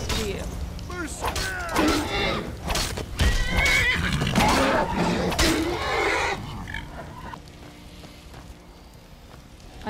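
A horse in the video game Skyrim neighs and whinnies loudly in several agitated bursts with clattering hooves, under someone talking, then fades to quiet.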